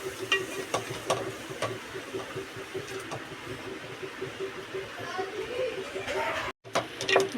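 Prawn gravy masala being stirred and sautéed in oil, with a steady low sizzle and scraping stir strokes throughout, a brief dropout near the end, while a person talks over the cooking.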